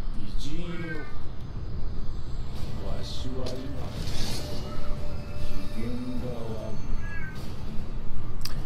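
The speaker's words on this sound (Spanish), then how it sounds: "Ahora tengo al gato maullando de fondo, tío." A cat meows several times in the background, with rising and falling calls spread across a steady wash of video game noise. Someone talks now and then.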